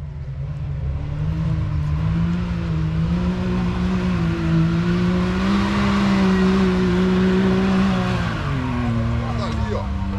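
A Can-Am Maverick X3 RS UTV engine revs and accelerates steadily off-road on a mountain trail, a loud close drone rising in pitch and dipping near the end, with voices talking over it.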